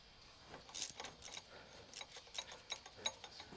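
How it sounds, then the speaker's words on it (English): Ratcheting wrench turning a 14 mm bolt on a 2000-2005 Toyota Celica engine during timing chain work, a faint, close run of rapid clicking ratchet strokes with no talking. "I'm just using the ratcheting wrench and I'm turning the whole bolt"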